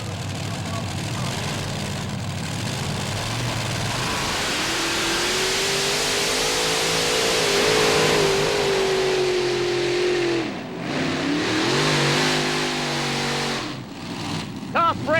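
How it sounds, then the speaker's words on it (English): Modified pulling tractor from Illinois with a 557 cubic inch Aries engine making around 8,000 horsepower, roaring loudly with rising pitch during a pull before cutting off sharply, an announcer talking over it. "the 4 557 cubic inch Aries is powering this modified tractor out of the state of Illinois"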